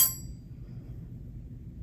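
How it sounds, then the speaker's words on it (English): A brass bell that hangs on a wall and was made in India gives one sharp metallic clang at the start, then rings out briefly under a low background rumble. "It's this brass bell that hangs on the wall."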